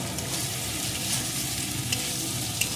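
Cauliflower fries in a pan with a spoonful of dry-roasted cumin, coriander and dried red chilli powder, giving a steady, close hiss of sizzling oil with faint stirring scrapes.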